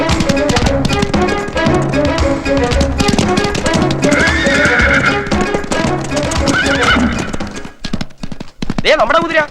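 A horse neighs with a rising and falling whinny near the end, and hooves clip-clop beneath dense film music in a Malayalam drama scene.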